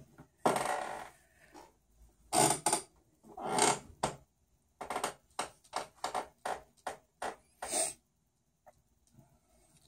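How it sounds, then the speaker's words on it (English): A squeaky office chair creaks in a quiet room during pinstriping work, giving a run of short, high squeaks and creaks in quick irregular bursts, louder early on and then a rapid series of shorter squeaks before fading to near silence. "Sorry about my squeaky chair."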